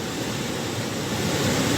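A strong monsoon river current rushes past the Muhuri closure dam in a steady, loud, broadband roar with no pauses or voices.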